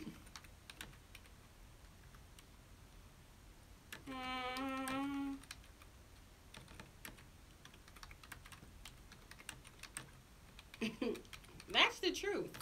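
Computer keyboard typing during a live broadcast's commercial break, a quiet run of scattered key clicks with a brief voice-like tonal burst in the middle and a denser flurry of louder taps near the end.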